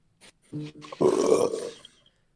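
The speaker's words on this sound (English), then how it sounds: "You burping over there?" A single burp during a football watch party, a voiced belch of about a second with a shorter croak just before it, close and fairly loud.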